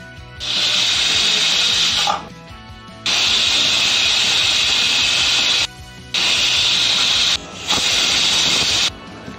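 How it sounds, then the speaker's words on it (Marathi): A pressure cooker cooking mutton curry on a high flame vents steam in loud, sharp hissing bursts. Four long blasts are separated by brief silent gaps, close by, with no talking. "आता आपल्याला मोठ्या वातीवरती 4 शिट्ट्या करून घ्यायच्या आहेत।"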